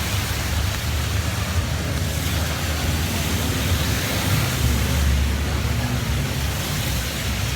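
Heavy rain pours down in Hong Kong as a dense, constant hiss with a low rumble beneath, loud and steady throughout with no speech.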